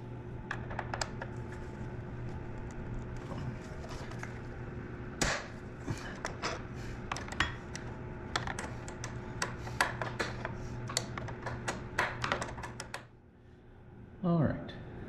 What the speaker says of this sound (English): removing the front covers here around the fog lights, and they're held together by 2 5-millimeter screws